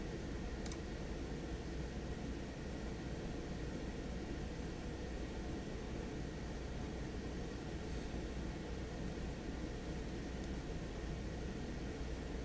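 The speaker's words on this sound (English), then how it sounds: "Let me know if you can hear the obnoxious sound of my air conditioner in the background." A room air conditioner runs as a steady, faint, broadband hum and hiss that holds unchanged throughout, with no voices over it.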